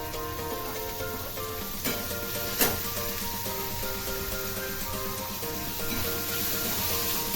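Onion and finely chopped tomato sautéing in a pan for a spicy tinda (round gourd) curry: a steady, close sizzle running throughout, broken by a couple of sharp clicks from stirring.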